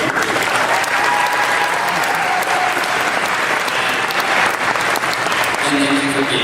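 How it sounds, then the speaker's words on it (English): Graduation audience applauding teachers and staff, a loud, sustained wash of many hands clapping at an even level with a few scattered voices mixed in. "You deserve a big round of applause"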